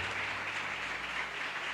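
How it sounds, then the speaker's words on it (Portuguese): Church congregation applauding during a Sunday service, a steady, fairly faint wash of clapping that holds evenly throughout with no voices over it. "Vamos aplaudir Jesus pela vida dele."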